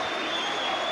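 A crowd at a 1990 Leeds versus Rochdale Hornets rugby league match cheers and applauds in a dense, steady roar, brief and fairly distant.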